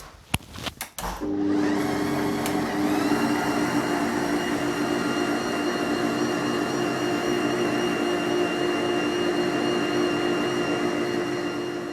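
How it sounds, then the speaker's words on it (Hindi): A Bosch MUM5 Styline 900W kitchen machine (MUM56340) starts with a few clunks, then its blender motor whirs in a loud, steady, unbroken drone, close and alone, easing slightly near the end. "इसके बाद इसका कवर बंद करूँगी और इसे ब्लेंड कर लूँगी।"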